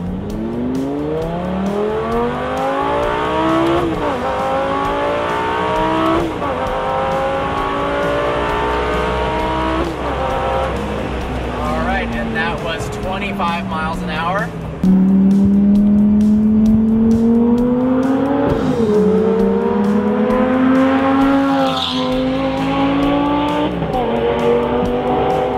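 A Lamborghini Gallardo launches hard in first gear with traction control off, reaching 60 mph in 3.9 seconds. The engine is very loud and close, its pitch climbing again and again in sweeping revs with brief breaks between pulls.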